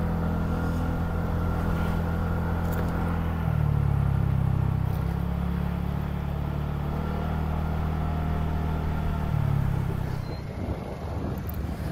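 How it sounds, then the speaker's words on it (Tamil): A TVS Ntorq XT 125 scooter accelerates while being ridden, its steady engine drone rising in two stronger surges with the throttle, heard close and continuous with no talking. "அதே மாதிரி ரேஸ் பண்ணாலும் வண்டி வாப்ளிங் ஆகாமல் நல்லா ரேஸ் ஆகுது."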